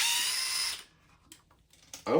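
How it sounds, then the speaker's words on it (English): Power tool driving screws on an RC truck during repair, one loud sustained whirring burst that stops abruptly, followed by faint clicks and a brief renewed spin at the end. "now I'm gonna use power tools because I don't want to deal with these screws here"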